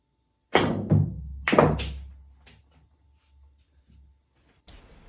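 In an eight ball trick shot, a billiard cue strikes the ball, and several hard clacks of balls colliding follow, with one rolling away before a final knock into the pocket.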